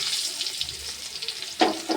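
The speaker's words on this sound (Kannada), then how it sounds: "ಬೆಳ್ಳುಳ್ಳಿ ಸ್ವಲ್ಪ ಎಣ್ಣೆಗ ಫ್ರೈ ಆಗ್ರಿ." Garlic frying in hot oil in a home kitchen, a steady soft sizzle with brief louder hissing bursts near the end, close by.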